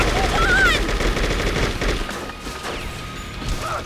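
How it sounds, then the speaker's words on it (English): Rapid gunfire with crashes and impacts in the video game True Crime: New York City, dense and loud at first then thinning out, mixed with game sounds and a few chirping tones. "Stop shooting at us"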